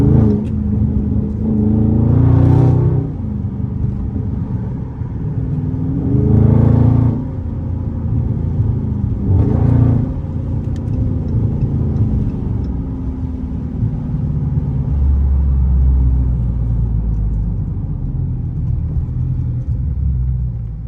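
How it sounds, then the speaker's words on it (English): A Dodge Scat Pack with a 3-inch straight-pipe exhaust and mid and rear muffler delete is driven hard, giving a deep, continuous rumble from inside with several rising revs as it accelerates. "Driving a little aggressive so you guys know how it sounds like."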